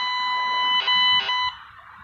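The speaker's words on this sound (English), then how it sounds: "I'm even getting an overload hit on that" A steady high electronic overload tone from a metal detector, with two brief pulsing bursts, then it drops away to a quieter hum; no talking.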